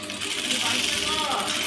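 A sewing machine stitches cloth for a salwar, running as a continuous close mechanical whir with a fast, even rattle throughout.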